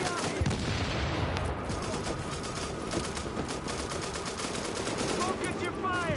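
Rapid automatic gunfire from a firefight in The Division video game, dense bursts of shots rattling continuously with a voice occasionally talking over it.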